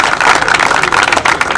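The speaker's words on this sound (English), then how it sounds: "round of applause to all you guys for being here tonight" An audience gives a round of applause at a Surf City Classics car club's Wednesday night meeting, with steady dense clapping throughout, close and loud.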